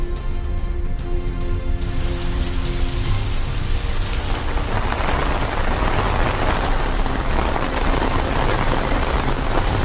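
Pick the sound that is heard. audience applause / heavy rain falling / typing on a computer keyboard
heavy rain falling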